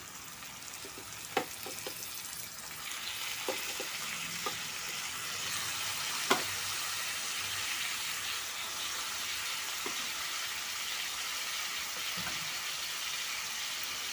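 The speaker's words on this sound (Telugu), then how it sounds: "ఈ చికెన్ ఇప్పుడు మనం ఇందులో వేసుకుందాం" Washed chicken frying in a pan for chicken fry, giving a steady, close sizzle throughout with a few sharp clicks and taps of a spoon against the pan.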